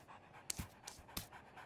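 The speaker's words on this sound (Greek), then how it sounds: "Ένα κουτάβι." A puppy pants in a Polly Pocket cartoon, quick, soft breathy huffs in a steady rhythm, close but faint, with no talking over it.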